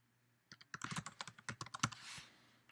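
Computer keyboard typing as a username and password are entered, a quick close run of crisp keystrokes in an irregular rhythm, alone in a quiet room.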